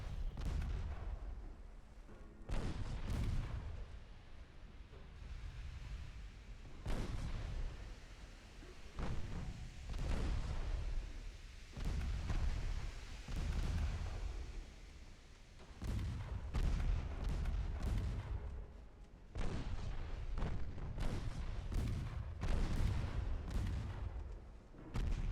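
Warship main guns in Ultimate Admiral Dreadnoughts boom again and again, deep heavy salvos with rumbling explosions spaced a second or two apart throughout a long naval exchange.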